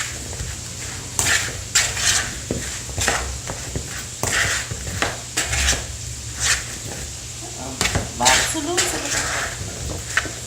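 Potatoes are tossed with herbs in a pan or bowl, giving close, clattering scrapes and knocks of a utensil in uneven bursts while a person talks over them.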